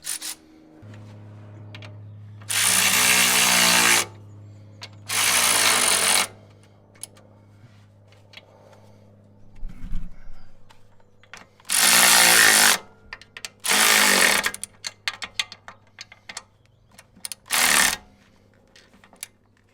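Tightening E12 bolts on the lower rear shock absorber mount of a BMW 1 or 3 Series (E82/E90/E91). A power tool runs in about five loud, close bursts of a second or so each, separated by quieter shop noise.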